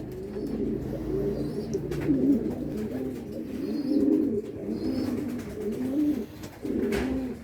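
A racing pigeon coos in repeated soft, throaty rolls, several phrases in sequence over steady outdoor background noise, fairly close and moderately loud.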